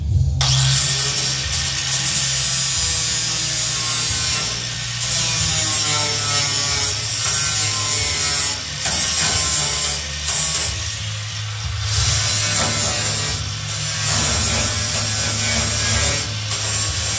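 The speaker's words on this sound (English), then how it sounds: "So we're going to grind these real quick" Abrasive grinding on tack welds of a car body panel for a Ford shoebox custom, a steady loud rasping whine running continuously with slight dips and surges, close up and alone without talk.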